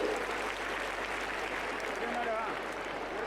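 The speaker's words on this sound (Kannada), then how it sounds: "ಜೋರಾದ ಚಪ್ಪಾಳೆ ಬರಲಿ." A school annual day audience claps together in a dense, sustained burst of applause that fills the hall evenly, with crowd murmur mixed in.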